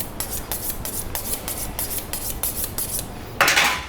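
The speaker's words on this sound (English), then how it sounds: "You sharpen the knife again." A kitchen knife is drawn repeatedly across a sharpener in quick, even rasping strokes, close and clear, with a brighter scrape near the end.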